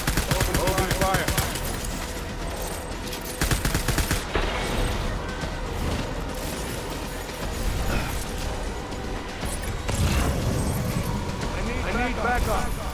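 Soldiers in the video game Death Stranding, in a Vietnam War battlefield episode, fire sustained bursts of gunfire with rapid automatic volleys and clanking mechanisms, loud and continuous, with shouted voices mixed in.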